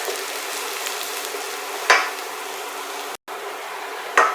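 Onions and shallots frying over medium heat in a pan give a steady, close sizzle, broken by a sharp clatter near two seconds and again at the end, with a brief dropout midway.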